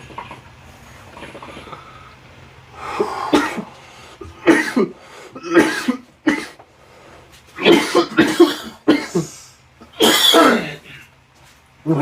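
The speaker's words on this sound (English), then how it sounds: "We've suddenly been hit with these racking coughs." Racking coughs come in repeated harsh bursts, some in clusters, loud and close, with brief pauses and throat noises between them.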